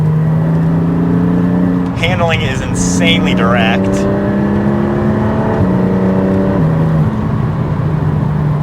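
A Porsche 718 Cayman GT4 with a 4-liter engine drives with a steady, deep-toned engine drone and a smooth gear change, while someone talks over it inside the cabin.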